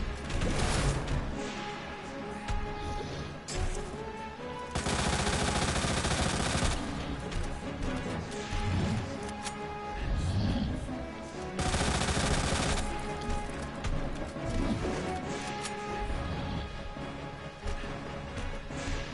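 Rapid gunfire from Resident Evil 2, with Leon firing an infinite-ammo weapon in bursts, including a long sustained volley near the start and another in the middle, loud and dense, over game effects and no talking.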